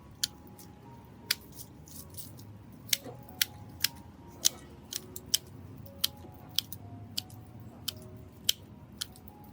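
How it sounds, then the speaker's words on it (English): Scissors snip away rotted, blackened, mushy orchid roots, giving a string of sharp, close clicks at irregular intervals over a quiet, faintly humming background with no speech. "Any roots that are rotted, blackened, or mushy will be completely cut away."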